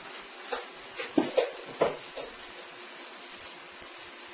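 Onions and tomato paste are tossed and stirred in a pan, a handful of soft scraping knocks and light sizzling in the first two seconds, then quieter sizzle.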